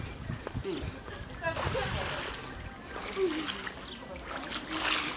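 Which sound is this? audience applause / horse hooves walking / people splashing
people splashing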